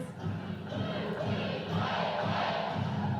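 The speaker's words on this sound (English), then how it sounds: "she brings the crowd in right there as they all chant" Crowd at a 2020 college gymnastics meet between Utah and Michigan, steady and fairly dense, with rhythmic chanting rising and falling during a floor routine in a large arena.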